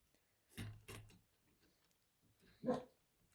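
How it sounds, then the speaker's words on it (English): A dog barks three times in a copper embossing workspace: two quick woofs close together, then a louder single bark after a short pause, with no talking. "Sorry about the woofy dog."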